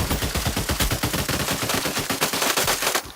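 Loud, sustained automatic fire from an AK rifle in a video game, a dense rapid burst of shots running steadily through the whole clip.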